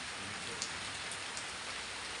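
Torrential downpour drums steadily on a yard that is flooding, a dense, unbroken hiss of heavy rain close by with no voices over it.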